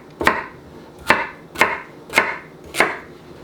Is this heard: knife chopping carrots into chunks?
yes